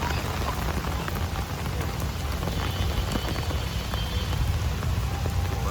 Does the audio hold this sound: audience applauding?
no